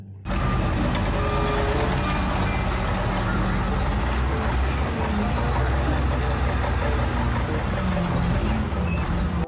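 A toy dump truck sounds a steady reversing beep over a dense, loud mechanical drone that starts abruptly and runs without pause.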